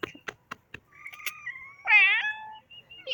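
A cat meows close by on an outdoor lawn, one clear drawn-out call near the end following a few brief sounds and a faint higher tone.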